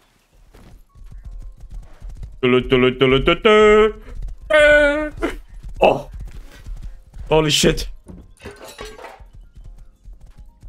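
A horse in the video game Rust gallops close by with rapid clip-clopping hooves and loud whinnying neighs, while a player shouts excitedly over it.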